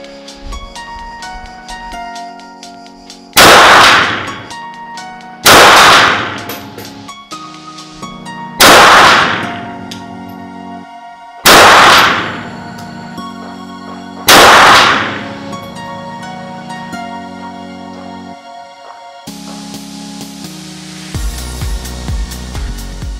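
Five loud, sharp gunshots from a Simonov SKS 45 rifle ring out a few seconds apart, each with a short decaying tail, against a quiet outdoor background with no talking.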